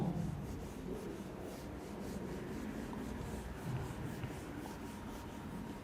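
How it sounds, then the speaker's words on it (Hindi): Written entry being erased from a board, a soft continuous rubbing and scraping, faint and close, steady throughout without pauses. "मैं एंट्री नंबर A रब कर रहा हूँ।"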